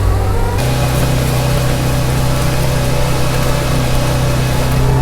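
A tractor engine drones loud and close as it drives through a wet field, a steady mid-low rumble that holds an even level throughout with no talking.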